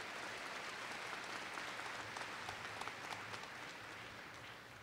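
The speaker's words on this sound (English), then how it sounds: "I think that's worth applause." Sustained applause from a large audience at a spring university commencement ceremony as graduates begin crossing the stage, a steady dense wash of clapping that fades slightly toward the end.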